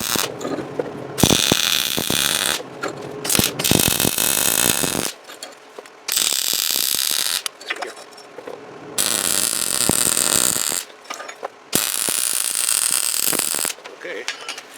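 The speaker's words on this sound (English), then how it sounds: "I'm going to reach in and tack this a little bit more on the inside first, and then I'll weld all of that" Tack welding on steel inside a saw storage build: bursts of loud, dense crackling buzz lasting a few seconds each, separated by brief pauses with faint handling noise, close by.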